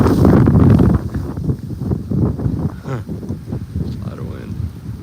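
Wind blows hard across a boat and buffets the microphone with a loud, low rumble for about a second, then keeps gusting more quietly under a person talking.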